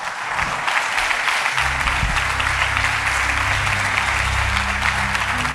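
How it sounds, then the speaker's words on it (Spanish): Church congregation clapping steadily throughout, a continuous wash of applause with low music or voices underneath. "Dale un aplauso al Señor."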